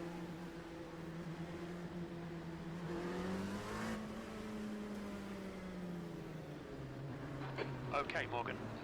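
An LMP2 prototype race car engine drones steadily from onboard on the pace lap at Canadian Tire Motorsport Park, with pitch rising and falling through gear changes and a voice talking over it.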